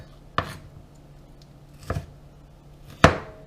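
A sharp knife chops an onion on a cutting board. Three distinct, crisp knife strikes land at uneven intervals, close up, with quiet pauses between them.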